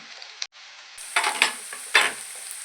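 Onions frying in a pan until lightly browned, for a palak paneer dish: a steady soft sizzle with a few louder bursts of stirring and spatula scrapes, close by and with no voices.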